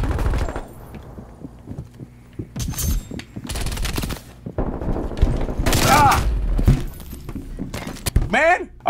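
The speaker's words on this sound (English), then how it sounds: "That grenade explosion was very loud, very bassy, sounded like an actual explosion." Bursts of rapid video game gunfire and heavy, booming grenade explosions crowd together through a gaming headset, loud and bassy, with voices talking over the noise.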